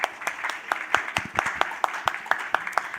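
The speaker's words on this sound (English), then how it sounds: "So a big round of applause for you." A conference audience claps in applause, sharp irregular hand claps repeating steadily throughout, fairly close and clear with no voices over them.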